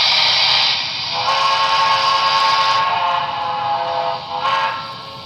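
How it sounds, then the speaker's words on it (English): A BLI PRR T-1 Duplex model locomotive sounds a sustained, loud steam whistle lasting several seconds, its tone shifting partway through with a brief dip near the end. "Like I said, it's a great whistle."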